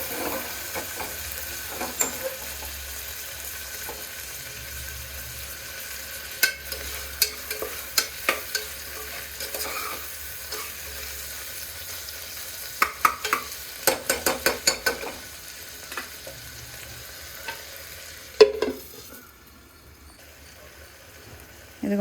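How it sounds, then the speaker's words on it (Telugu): A large tomato fries in oil in a pan, a soft steady sizzle under bursts of spatula scrapes and taps, busiest in the middle and ending with one louder clatter. "ఈ టొమాటో ఆయిల్లో బాగా ఫ్రై అవ్వాలి."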